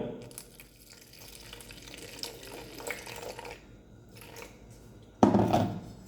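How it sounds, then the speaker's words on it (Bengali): Water poured into flour in a bowl while mixing aloo paratha dough, a soft trickling splash that swells suddenly near the end, over light handling noise. "এবার আমি এতে কিছু জল ঢেলে নেব"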